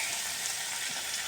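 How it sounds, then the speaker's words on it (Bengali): Tomato fries in a pan, giving a steady, soft, hissing sizzle heard close up for just over a second, with no voices. "এই টমেটো একটা দিয়েছি, ভালো করে নেড়ে চেড়ে ভাজা করে নেব"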